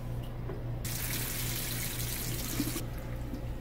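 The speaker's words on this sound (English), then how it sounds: "And we're just going to bleed the water out." Water runs steadily from an RV bathroom faucet as the water lines are bled, a loud continuous broadband hiss that starts abruptly, holds for about two seconds and then cuts back to a low hum.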